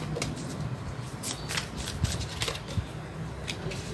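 Tarot cards shuffled by hand during a reading, quiet riffling and flicking with soft irregular snaps, close and continuous for a few seconds.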